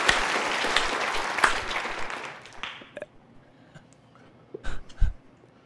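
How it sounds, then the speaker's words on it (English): Applause from a studio audience on a talk show, a dense steady wash of clapping for about three seconds that fades out, followed by a few scattered claps and faint noises. "I gotta clap for this man."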